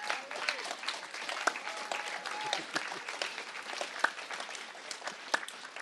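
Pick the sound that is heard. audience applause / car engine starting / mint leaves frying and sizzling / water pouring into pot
audience applause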